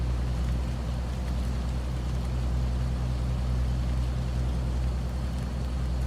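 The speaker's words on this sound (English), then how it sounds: "We're going to let this truck warm up a little bit." A truck engine idles steadily while warming up in the rain in American Truck Simulator, a constant low rumble with a soft rain wash over it, unchanging throughout.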